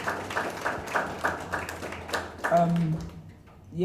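An audience at a Black founders in tech panel claps in scattered, rhythmic bursts, with speech over it, before the applause fades.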